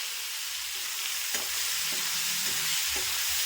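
Tomatoes sauté in a hot pan, giving a steady close sizzle with a few soft scraping stirs of a spoon partway through, and no voices.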